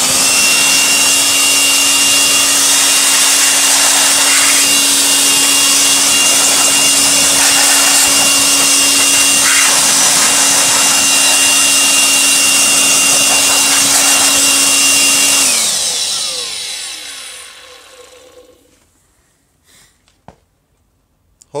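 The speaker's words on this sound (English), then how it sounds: "Just got an electric air blower that I'm going to use." An electric air blower blasts dust out of a computer with a loud, steady high-pitched whine and rushing air that holds for about fifteen seconds, then winds down and fades to near silence with a few faint clicks.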